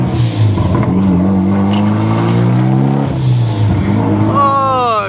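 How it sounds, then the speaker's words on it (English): A Mitsubishi Evo with a turbo and blow-off valve pulls hard, its loud engine note climbing in pitch through the revs, then easing as a hiss and fluttering release rise near the end, close and dominant. "Listen to the glorious Evo sounds."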